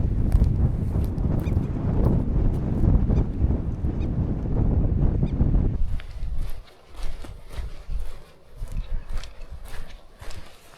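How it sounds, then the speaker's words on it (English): Strong wind on Scotland's Isle of Kerrera buffets the microphone with loud, low roaring gusts, then eases into gentler, intermittent rushes and rustling. "it is very windy here"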